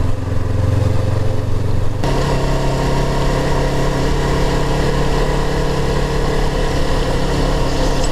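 A motorcycle engine drones loud and close while riding on an adventure trip near Bella Coola, shifting to a higher, rougher pitch about two seconds in and then holding steady, with no talk.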